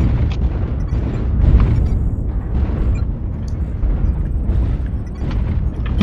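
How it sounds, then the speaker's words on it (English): Artillery strike explosions in the MechWarrior Online video game, a dense, loud run of deep booms and rumbling blasts rolling on for several seconds with no pause. "Artillery strike activated."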